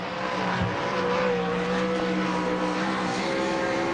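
A sprint car lapping the dirt cushion off turn 4 at an All Star Circuit of Champions race in Hartford, Ohio, engine roaring loud and steady with a sustained droning pitch throughout, no voices.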